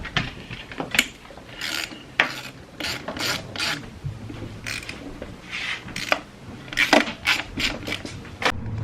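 A hand ratchet with a 5/16 socket clicks in repeated short bursts while loosening throttle body bolts on a 4.6 2v engine, close and fairly quiet.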